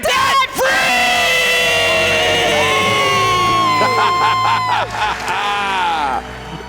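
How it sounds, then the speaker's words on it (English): A couple lets out a loud debt-free scream together, sustained yelling and whooping that fills the whole stretch, with cheering crowd noise and shouts continuing beneath and after it. "Let's hear a debt-free scream."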